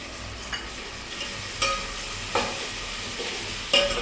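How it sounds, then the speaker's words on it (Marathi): Onions sizzle in a pan as tomatoes are added, a steady frying hiss with a few sharp clinks and scrapes of a spoon against the metal. "आता आपला कांदा आता टमॅटो टाकायचं."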